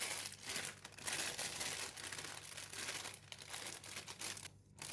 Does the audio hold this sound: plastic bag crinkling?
yes